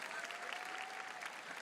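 An audience at the Pattonville High School 2024 graduation ceremony claps steadily for a standing student, a soft, even patter of many hands that sounds fairly distant and continues without a break.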